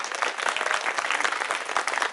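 Enthusiastic audience applause at a City Montessori School annual function in Ganiyadeoli, Ranikhet, honoring a guest, with dense, loud clapping from a large crowd that stays steady throughout.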